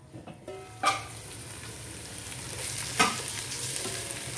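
Chicken pieces frying in oil for chicken kabsa, a steady close sizzle broken by two sharp louder bursts as the pan is stirred or shifted.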